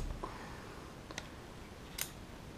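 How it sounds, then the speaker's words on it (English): Scissors trim the tag ends of monofilament leader line beside a fly line knot, giving two quiet, crisp snips about a second apart against a soft background hiss. "With a pair of scissors or a knife or something, you guys can cut these little pieces off."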